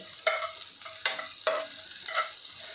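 Green chillies and grated ginger being sautéed in oil, with four distinct spatula strokes scraping the pan at uneven intervals over a faint, steady sizzle.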